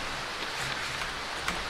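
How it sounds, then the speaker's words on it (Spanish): Rain falls in the horror game Darkwood, a steady, moderately loud patter of drops hissing on the ground, with one brief sharper tap near the end and no voices. "¿Qué pasa con la lluvia, tío, de mierda?"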